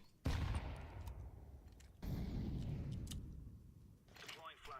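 Video game gunfire rattles in sustained automatic bursts, one long volley followed by another that fades out, with a voice talking over it.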